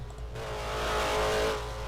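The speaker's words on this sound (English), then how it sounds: "if you guys are revving, could we try not to?" Race car engines roar loudly at Martinsville during a short-track feature race, a steady harsh buzz swelling and fading slightly as cars pass, with no voices over it.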